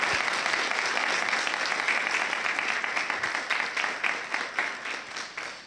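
Festival audience applauding a young singer on stage, a dense sustained wash of many hands clapping, steady and moderately loud, with faint voices beneath.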